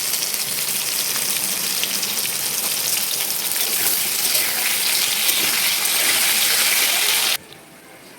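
Potato and pointed gourd pieces fry in hot oil with salt and turmeric, giving a loud, dense, steady sizzle close by that suddenly drops to a quieter hiss near the end.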